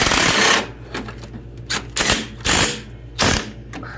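Ratchet wrench tightening bolts on a John Deere L130 lawn tractor engine, heard as several short, loud bursts of rapid clicking separated by brief pauses, with a low steady hum underneath.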